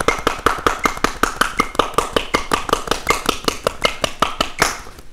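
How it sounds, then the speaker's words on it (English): A crowd claps hands loudly in a steady, even rhythm along with a drum beat, around two dozen crisp claps in a row, close and prominent. "You want them to clap louder?"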